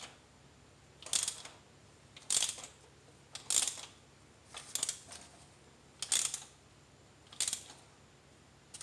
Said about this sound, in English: You're going to put your ratchet in, and you're going to start